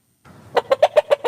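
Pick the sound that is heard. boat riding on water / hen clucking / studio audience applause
hen clucking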